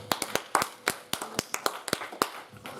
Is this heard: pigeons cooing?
no